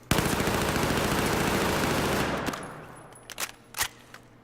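ACWR rifle with a muzzle brake fired from the hip in Battlefield 4: a sustained rapid burst of loud automatic fire for about two seconds, then a few separate clinks and thuds as it stops.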